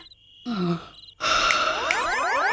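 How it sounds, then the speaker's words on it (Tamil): A drawn-out, exaggerated yawn in a comedy drama, a breathy vocal sound with a sliding pitch. It breaks off, then returns louder and longer with warbling, effect-like tones layered over it. "டேய் கொட்டாவி விடாதடா"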